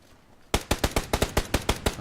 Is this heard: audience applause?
no